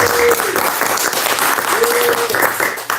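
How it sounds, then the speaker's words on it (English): Audience applause at a guitar clinic held in a Denver music store, a steady, loud wash of clapping lasting the full three seconds, with a faint tonal whistle-like note sounding through it twice. "We get like a round of applause for everyone tuning in right now."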